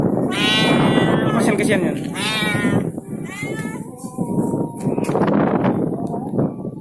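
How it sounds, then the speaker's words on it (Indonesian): A cat meows several times, loud and close, with drawn-out cries spaced a second or so apart during strong wind in Candi, Sidoarjo. People talk over and between the meows. "Kamu meong aja kamu dari tadi."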